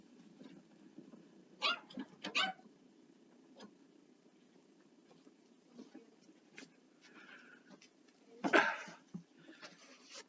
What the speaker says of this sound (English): my dog is barking at the door